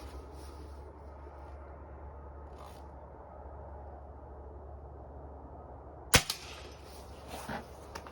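One sharp, loud crack of a Diana Mod. 54 Air King or Norica Omnia ZRS air rifle fired offhand from a sitting position cuts through a quiet outdoor hush, followed by a couple of fainter knocks.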